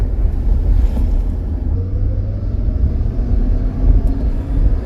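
A V8 land yacht from Michigan drives along with a loud, steady low rumble of engine and road noise mixed with wind buffeting, continuous and without talk.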